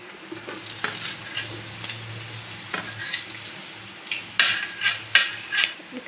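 Onions frying in a pan for veg Manchurian, a continuous sizzle broken by several sharp scraping stirs that grow louder toward the end, with no talking.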